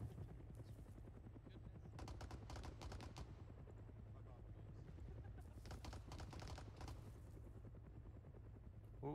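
Small arms gunfire in the Arma 3 game, bursts of rapid shots around two to three seconds and again near six seconds, over a steady low engine drone, with voices talking.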